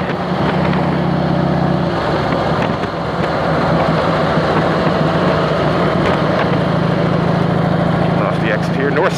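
A Harley motorcycle engine hums steadily while riding on the road near Fredericton, with a continuous low drone and wind noise, and someone talks over it.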